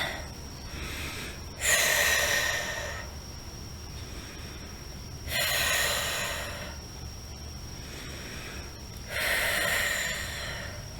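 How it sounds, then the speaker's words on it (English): Three slow, deep breaths drawn in a calm, quiet setting, each a soft airy rush lasting about a second and spaced a few seconds apart, with a faint steady tone in the background and no talking. "just take 3 deep breaths."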